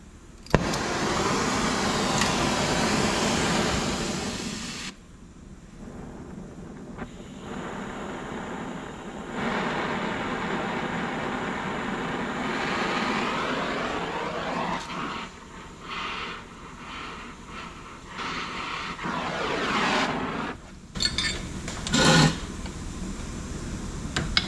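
A torch roars steadily while heating a car's steering shaft before it is twisted, the loud hiss running for long stretches and cutting out briefly with short pauses and clanks between bursts.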